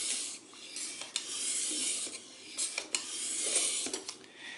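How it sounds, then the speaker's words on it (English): A knife blade scraped against a sharpening stone on an Apex Edge Pro clone sharpener, a series of close, gritty rasping strokes of uneven length with short pauses between them, and no voices. "I don't know a lot about sharpening knives."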